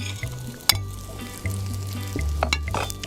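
Sardines added to sliced Tropea onions sizzling in a pan for pasta con le sarde, a close steady frying hiss with a few stirring clicks and scrapes.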